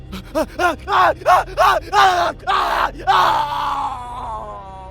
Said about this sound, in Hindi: और फिर बस एक चीख गूंजी।